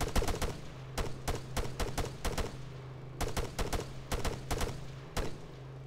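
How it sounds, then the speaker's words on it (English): Gunfire in the Arma 3 video game: sharp shots crack in quick bursts and clusters separated by short gaps, with a low engine hum running underneath throughout. "he's getting shot at"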